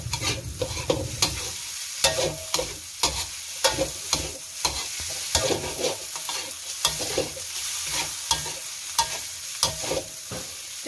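Squid fried rice stir-fried over high heat, with a steady loud sizzle and rapid, rhythmic scraping strokes of a spatula in the pan throughout, and no voices.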